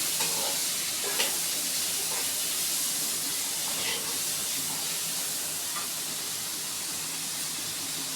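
Grated carrot sizzles in a hot frying pan with masala macaroni, a steady soft hiss broken by a few light scrapes and clinks of stirring.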